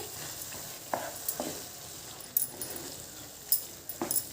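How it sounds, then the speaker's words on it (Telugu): A spoon stirs garam masala and pepper powder into egg keema in a pan, giving a soft sizzle broken by several light scraping taps spread across the stretch. "గరం మసాలా మిరియాల పొడి కొద్దిగా వేసుకొని బాగా కలిపెట్టేసి"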